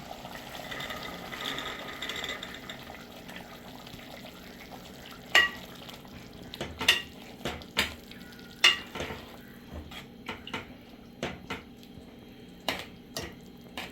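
Boiled green chickpeas hit a hot pan of spiced masala with a soft sizzle, followed by a series of scraping, clinking stirs against the pan.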